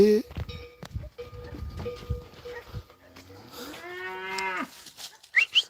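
A cow moos loudly and close by on a farm, one long drawn-out call near the end, following a stretch of people talking and calling out to the animals.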